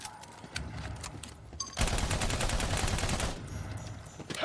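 Rapid automatic gunfire in the Battleborn game rattles in a fast, loud burst aimed at a bumper turret, preceded by scattered shots and electronic effects, then tapering into lighter fire.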